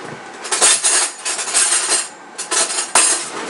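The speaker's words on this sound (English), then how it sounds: "Alright, so I'll get a knife" Metal cutlery clattering and clinking close by as a butter knife is picked out, several bright rattling bursts with short pauses between them.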